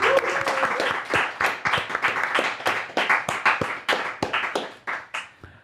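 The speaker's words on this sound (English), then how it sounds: "A round of applause." An audience gives a round of applause at a Christmas pantomime, a smaller crowd whose individual claps stand out as sharp, distinct hits, fairly close and tapering off toward the end.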